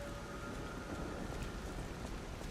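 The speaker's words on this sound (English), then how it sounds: "I enjoy the rain." Rain pours steadily in the video game Lies of P, a dense, even hiss and patter of drops on surfaces that carries on without a break, with a faint low tone running underneath.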